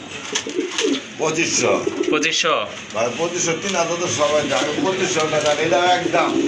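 Pigeons coo softly in the background while someone speaks over them close to the microphone.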